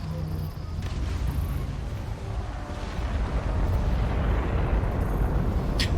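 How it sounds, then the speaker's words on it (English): A heavy bombardment in the fantasy video game Guild Wars 2, with a dense, continuous rumble of overlapping explosions and booms that grows louder toward the end, with no clear gaps between blasts. "That's a hell of a bombardment"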